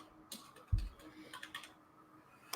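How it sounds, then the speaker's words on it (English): Soft keystrokes on a computer keyboard tap out a short search phrase, faint and close, with scattered clicks under a low background hum. "if you open up the keyword research tool and we type in running shoes"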